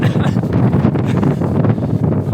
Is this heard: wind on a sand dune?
yes